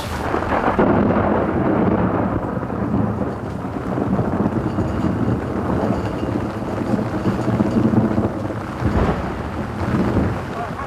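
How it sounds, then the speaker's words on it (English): A violent monsoon thunderstorm in Thailand: rolling thunder rumbles over steady heavy rain and gusting wind buffeting the microphone, with a sharper crack of thunder near the end. "Monsoons can easily whip up into violent storms, and this was the result."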